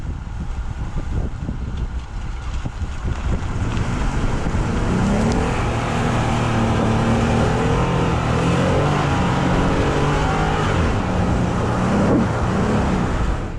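Jeep Gladiator Rubicon pickup, a 2020 model, driving off-road in 2H rear-wheel drive mode, with a steady, loud engine and drivetrain drone plus continuous road and tyre rumble throughout, no talking.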